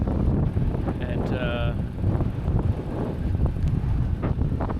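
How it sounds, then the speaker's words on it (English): Strong wind buffets the microphone in the open Tankwa Karoo, a constant loud roar with gusting surges, while a voice speaks briefly over it. "It's very windy though, very windy"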